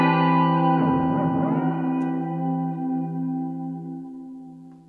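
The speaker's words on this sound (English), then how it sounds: "you'll actually start hearing the, almost like the tape heads moving across the tapes" A sustained electronic tone passes through a Strymon Volante tape echo, its repeats warping and swirling briefly before settling into a steady, slowly fading drone.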